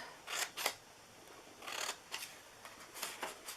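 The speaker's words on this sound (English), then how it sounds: "And we're going to cut in on these." Scissors slicing Christmas wrapping paper in bursts of crisp snipping and rustling, several short cuts close up against a quiet room.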